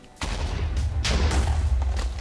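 Loud Minecraft TNT blasts destroy a house in close, overlapping booms. A second big blast rolls in about a second after the first, and no voices are heard.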